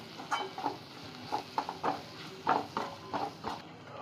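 Spice powders (coriander, chilli, turmeric, garam masala) being stirred into a vegetarian liver-style gravy in a pan, giving repeated soft scraping strokes of the spoon with faint sizzling beneath, fairly close and without talk.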